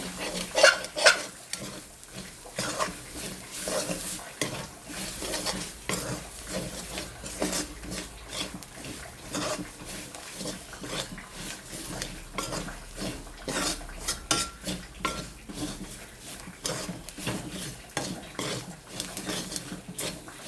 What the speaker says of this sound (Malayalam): ഈ പൊടികളെല്ലാം നന്നായിട്ട് മൂക്കട്ടെ.